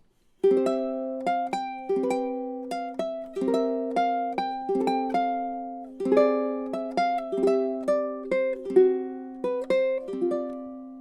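A Kala ukulele plucks a melodic piece with a bright, ringing tone, notes and strummed chords in a steady rhythm, close and clear with no voices.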